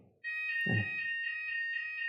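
A shrill, continuous electronic alarm beeping tone sounding indoors during an interview, steady and loud after a brief low thump, with a short burst of speech as it starts.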